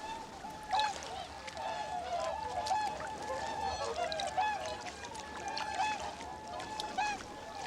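Swans wintering on thermally heated lakes in Hokkaido call with repeated honking and trumpeting bugles from a flock at middle distance, over a soft background of water and bird chatter.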